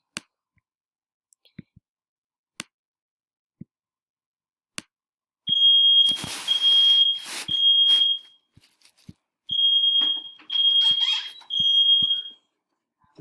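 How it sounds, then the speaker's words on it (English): A household smoke alarm sounds a series of loud, shrill electronic beeps in bursts, with sharp clicks scattered before it and a brief gap between two groups of beeping. "my smoke alarm was just going off"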